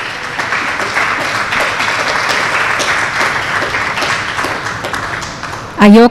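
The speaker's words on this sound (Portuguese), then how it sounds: "bini dilante aplauso para Nayoka" Audience applauds Nayoka at a teaching day event, a loud, steady sustained round of many hands clapping that ends as a voice begins speaking near the close.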